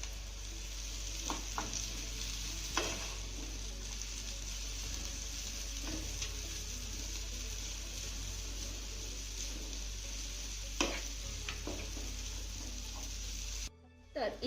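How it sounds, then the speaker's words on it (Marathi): Sorghum flour noodles being stir-fried in spices sizzle softly and steadily in a pan, with occasional scraping stirs and clinks; the cooking noise is faint and continuous, with no one speaking. "आता 1 ते 2 मिनिटं ही शेवई ना आपल्याला मसाल्यामध्ये चांगली परतून घ्यायची आहे."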